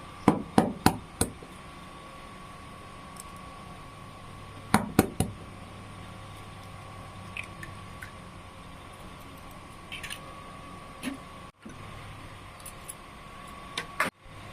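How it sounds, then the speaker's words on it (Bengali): Sharp knocks of three eggs being cracked against a bowl rim for a spiced egg tiffin snack, brief taps in small clusters with quiet pauses between, near and clear, no talking. "তিনটে ডিম এদের মধ্যে আমি ফাটিয়ে নেব"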